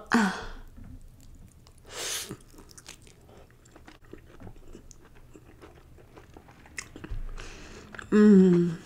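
Biting into pizza and chewing it close to the mic, with a few crunchy mouth sounds spread over several seconds, ending in a brief vocal hum.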